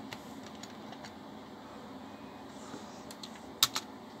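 Typing on a computer keyboard while setting up a GTA 5 PC mod menu, a few soft scattered key taps over steady room hum, with one sharper keystroke near the end.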